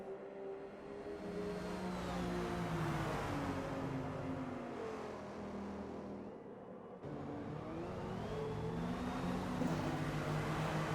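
Chevrolet and Porsche race cars in a Forza endurance race at Sebring roar steadily, engines droning and shifting pitch as they run close together, with one brief cut partway through.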